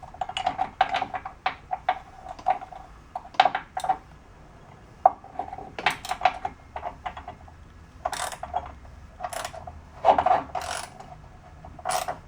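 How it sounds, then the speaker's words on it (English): A small palm ratchet turns a bolt with a lock washer on a 2014 Jeep Wrangler during a lift kit install, giving quick irregular runs of close metallic clicks with short pauses between them. "A little palm ratchet. See if you can get that guy in there and started."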